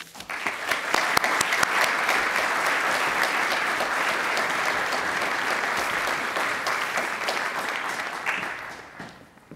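An audience at an evening lecture welcomes speaker Gebisa Ejeta with sustained applause: many hands clapping steadily at close range for several seconds before it tapers off.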